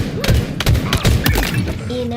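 Rapid, dense gunfire from the video game Halo Infinite rattles in overlapping bursts, loud and close, with heavy thuds mixed in and faint game noise underneath.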